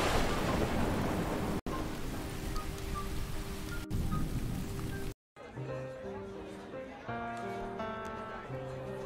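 Heavy rain and rumbling thunder in the pixel adventure game Crowalt, a dense steady wash that cuts off abruptly to a quieter musical passage, with brief gaps and speech alongside.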